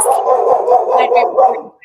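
A dog barks repeatedly in a steady flurry of loud, close yaps and barks during a Broadway fan club livestream, filling the whole moment without pauses.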